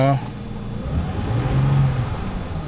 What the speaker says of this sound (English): It's a little bit of a high idle, but it's normal for a cold engine.